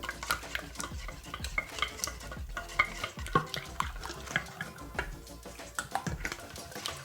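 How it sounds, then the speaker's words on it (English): Tahini yogurt mixed with toum in a bowl, a close, steady run of wet stirring squelches and soft spoon taps against the bowl, with no talking. "just give it a good mix in the bowl till it's all nice and smooth"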